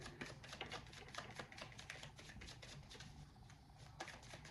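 Rapid clattering riffles of tarot cards being shuffled up close, quiet and crisp, in several quick bursts with no talking.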